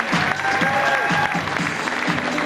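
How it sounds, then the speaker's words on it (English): Steady audience clapping fills a school hall at a fashion show, a continuous close round of applause with faint crowd murmur underneath. "Give them a big round of applause, folks."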